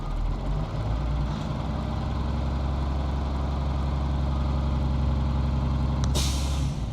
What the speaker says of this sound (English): I'm going to build my air pressure by accelerating so I can build it faster